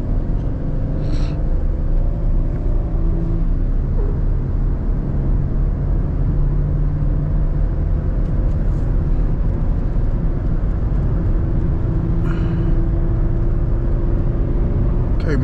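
A Chevrolet Camaro accelerates hard on a wet road, its engine a loud, steady rumble with constant tyre and road roar that holds without letting up, and no talking over it.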